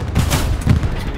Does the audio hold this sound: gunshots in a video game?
yes